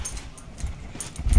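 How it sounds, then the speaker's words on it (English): A pet dog gives soft, faint whimpering whines close by, with low rustling handling noise and a slightly louder bump near the end. "This is my dog, Sasha."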